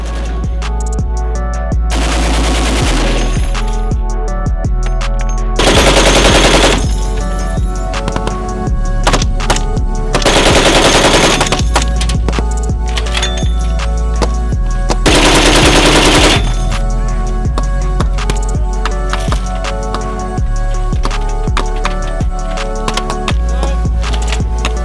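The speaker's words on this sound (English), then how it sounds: "this robot can be mounted with a variety of different machine guns on it" Machine guns mounted on an unmanned military robot vehicle fire in several sustained loud bursts separated by pauses, harsh and close over a rumbling background.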